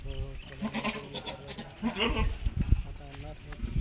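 Goats bleating on a farm near their shed, several short nasal cries rising over people talking nearby throughout.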